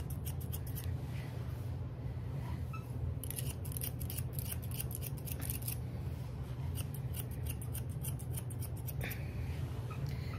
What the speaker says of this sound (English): I find these scissors cut more than my older ones